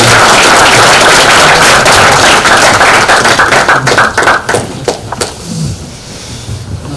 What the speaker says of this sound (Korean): 그 4명 학생들에게 박수 한번 부탁드리겠습니다.